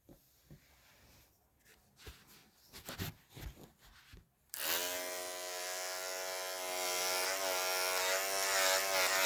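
Electric clippers buzz steadily through matted fur while grooming a toy poodle, a loud continuous whine starting abruptly after scattered handling noises and brief soft speech, its tone shifting slightly as it catches on mats.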